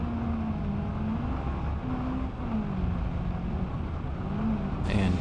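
A 400-horsepower car engine in BeamNG.drive, modified to be louder, drones steadily and loud, its pitch rising and dipping as it revs, with no talking.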